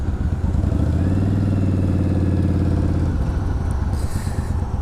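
Several diesel engines idle nearby, a loud, steady low rumbling drone with rhythmic clatter that holds constant, then one engine's tone fades slightly toward the end, with no talk.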